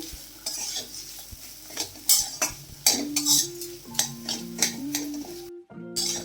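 Boiled, mashed potatoes being mixed with spices in a pan for Bengali aloo chop, heard as repeated scraping, stirring strokes and metal spoon clinks against the pan, with some faint sizzling and a brief tonal hum.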